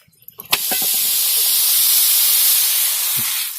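Hand-pressed dhapate flatbread dough dropped onto a hot griddle, a sharp slap followed by loud, continuous sizzling hiss that fades slightly near the end, with a few small knocks beforehand.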